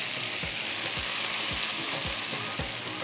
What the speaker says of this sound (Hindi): ये अब जा रहा है इसके ऊपर तड़का